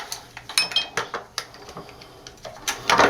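A toothbrush scrubs debris out of the cavity of an old Zebco fishing reel, giving a string of quick, close scratchy clicks and clinks in short bursts, with no talk.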